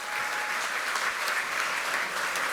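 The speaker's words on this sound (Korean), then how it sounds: "여러분, 축하의 박수 크게 부탁드리겠습니다." Steady, dense applause from a crowd at a Democratic Party assembly of elected lawmakers, congratulating newly chosen National Assembly vice-speaker candidates; sustained and even throughout, with no talk over it.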